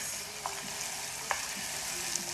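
Onions frying in hot oil with dal being stirred, a steady close sizzle with a few small clinks and scrapes of a spoon over it, no talk.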